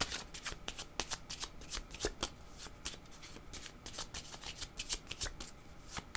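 Tarot cards shuffled by hand up close, a dense run of rapid riffling flicks and soft slaps continuing throughout, fairly quiet with no talking.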